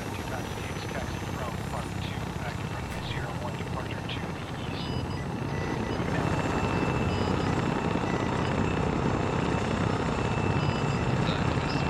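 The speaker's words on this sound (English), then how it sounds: "God, I love the sound of those fucking helos." Military helicopters run during a field training exercise, with a loud, continuous rotor and engine roar close by and voices talking over it.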